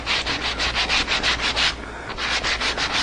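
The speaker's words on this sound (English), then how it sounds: "It doesn't take much or nothing to sand that little lip out." Sandpaper rubbing back and forth along the wooden edge of a knife caddy in a woodworking shop, a steady rhythmic scrubbing of even strokes with a brief pause midway, close and loud.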